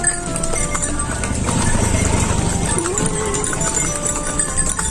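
Horse hooves clip-clopping as a horse pulls a delman cart, steady rhythmic clatter throughout under street bustle and nearby voices.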